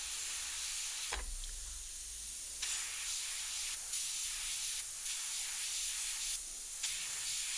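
An airbrush sprays paint over a hand-held stencil in short hissing bursts, steady airflow broken by several brief pauses and restarts, close and fairly quiet with no talk.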